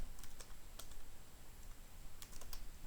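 Keys clatter on a computer keyboard as code is typed, in short irregular bursts of close, crisp clicks separated by brief pauses over a low steady hiss.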